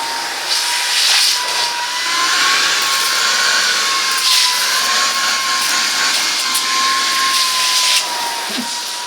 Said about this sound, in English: that's the Silvercrest Cordless Cyclone vacuum cleaner